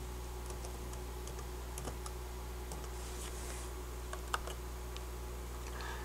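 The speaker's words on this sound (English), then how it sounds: "First thing I'll do here is type just a simple name." Typing on a computer keyboard in design software, a quiet, irregular run of light key clicks and taps with no talking.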